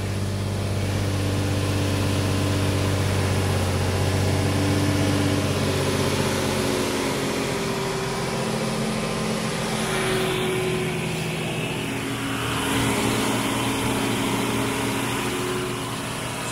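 Nissan 350Z engine running at idle after a radiator replacement and coolant fill, a steady loud hum with a constant low tone that shifts slightly partway through, with no voices.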